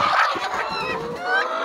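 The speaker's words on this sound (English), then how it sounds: "this chicken also is becoming so broody" A broody layer hen clucks and grumbles close by in a series of harsh, wavering calls, loud and uninterrupted by any voices.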